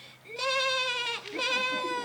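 Sheep bleating at a market scene in a French stage play, two clear, wavering, close bleats in quick succession with a short break between them.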